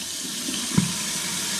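Water runs steadily from a kitchen sink tap while dishes are washed with soap, a continuous moderate hiss with a brief clunk in the middle.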